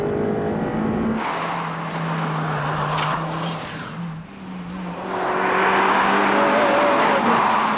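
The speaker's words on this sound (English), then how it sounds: "Its 201 brake horsepower comes to life with a raging sonority that invades the interior" A Honda Civic Type-R's 201-horsepower four-cylinder engine revs hard toward the red line, a loud raging wail that climbs, dips briefly, then surges again, filling the cabin without any talk.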